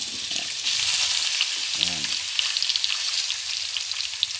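Beef tongue and offal for paksiw hiss and sizzle steadily in a hot pan, a close, continuous crackle with a brief clatter of the pieces landing early on.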